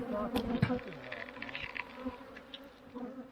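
Honey bees buzz around an opened hive as frames are inspected, a dense, close droning hum with individual bees whining past the ear.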